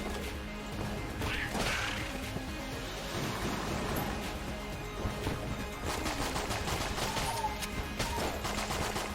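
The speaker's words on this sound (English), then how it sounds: "Weird thing about the Trank Gun is it actually fires extremely quickly" Trank Gun in Enter the Gungeon firing rapidly, a quick stream of sharp small shots forming a continuous clattering burst at steady loudness amid other game effects and music.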